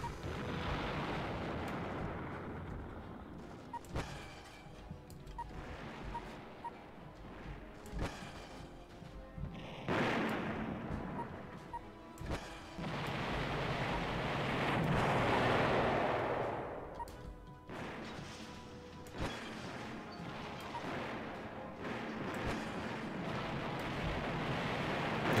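Continuous heavy pulse cannon fire in the video game Battle Engine Aquila, with booming bursts and rumbling blasts layered over a dense, roaring background.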